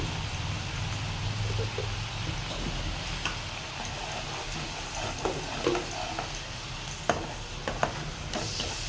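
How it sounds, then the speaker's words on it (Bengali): Mustard hilsa masala stirred in a pan, a steady low sizzle with soft scraping and occasional clicks of the spoon against the pan. "এবার আমি এটাকে একটু দু মিনিটের মতন নাড়িয়ে নেব"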